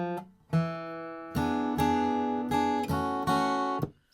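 Acoustic guitar picks out the closing phrase of a melody slowly, a handful of separate plucked notes and brief strummed chords ringing close and clear with short gaps between them.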